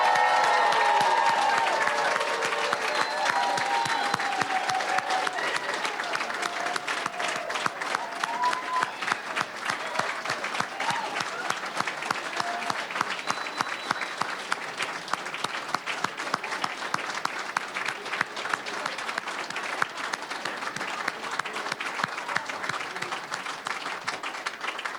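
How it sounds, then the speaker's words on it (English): An audience at a community college student honors banquet gives sustained applause, a dense, steady roar of many hands clapping that carries on evenly throughout, with some cheering and faint voices mixed in. "Give them up for a round of applause, please."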